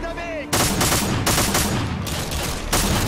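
Repeated gunfire bursts from the video game Call of Duty Modern Warfare 2, loud and close, with sharp volleys recurring every half second or so after a brief spoken lead-in.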